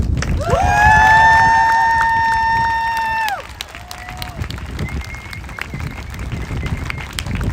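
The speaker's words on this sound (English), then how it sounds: "Let's give him a round of applause." At an outdoor trans unity rally at the U.S. Capitol, a loud sustained whoop rings out over the crowd, followed by a shorter call and then scattered, uneven clapping and cheering.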